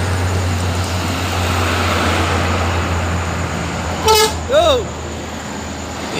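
A Bintang Utara Putra bus passes on the road with its engine rumbling steadily, then sounds two short, loud horn blasts near the end, close by over the traffic noise.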